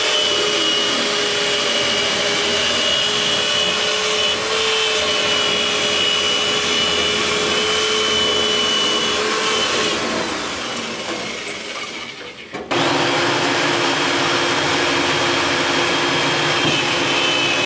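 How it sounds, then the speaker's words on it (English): A central vacuum unit supplies suction for air duct cleaning, roaring as a loud, steady, broadband drone. It cuts out briefly near the end, then resumes at full strength. "The central vacuum provides suction for the system."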